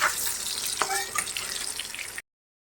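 Potato pieces frying in a pan while being browned for a Bengali mutton and pulao meal, a bright continuous sizzle with a stir or scrape partway through, close, ending abruptly.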